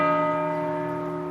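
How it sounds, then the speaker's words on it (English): A church bell rings out with a single sustained, resonant tone, rich in steady overtones that slowly fade over a second or so, close and fairly loud. "I thought they added the bells in."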